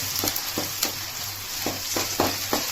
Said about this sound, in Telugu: ఇది బాగా వేగనేయాలి బాగా ఫ్రై అవ్వాలి